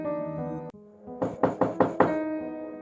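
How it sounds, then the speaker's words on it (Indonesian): Five firm knocks on a door land in a quick, even series, close and clear over a sustained musical drone in a quiet night setting. "Terdengar ketukan pintu"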